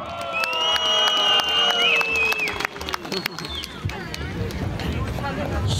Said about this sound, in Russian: Судя по аплодисментам